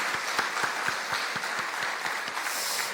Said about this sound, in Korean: 우리 하나님께 영광의 박수, 아이들에게 축복의 박수 드리겠습니다